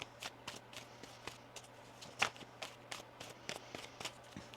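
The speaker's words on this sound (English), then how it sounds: "One more shuffle." Soft, irregular riffling and snapping of tarot cards being shuffled close by, in quick bursts with a faint steady hum underneath.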